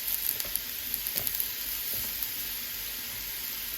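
Tomato paste sizzles and hisses in a hot pot on a high-heat burner for lobster bisque, a steady close frying crackle with small pops, no voices.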